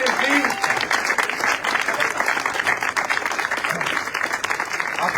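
An audience at a Tour de l'Orne cycling race awards ceremony breaks into sustained applause, many hands clapping steadily and fairly close.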